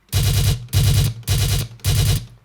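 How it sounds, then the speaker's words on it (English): A boosted, boomy machine gun effect built in a dubstep production session plays four loud, even bursts of rapid fire, each about half a second long, separated by brief gaps. "Just a typical machine gun with a little bit boosted on"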